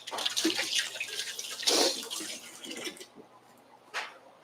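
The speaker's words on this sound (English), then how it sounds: "Let me wash my hands really quickly" Tap water runs and splashes as hands are washed at a kitchen sink during a chili cook-off, moderately close with uneven bursts of flow, then quieting before a final short splash.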